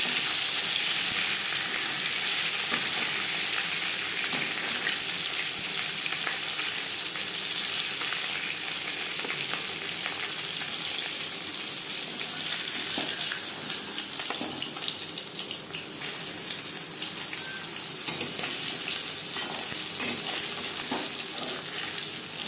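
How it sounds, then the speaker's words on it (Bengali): Katla fish pieces fry in oil in a wok heated on high flame, giving a continuous, moderately loud sizzle and crackle with occasional sharper pops and spatters, no voices over it. "মাছ ভাজা হয়ে গেছে"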